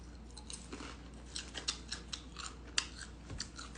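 Quiet, quick papery flicks and soft taps come in irregular bursts as tarot cards are shuffled close by.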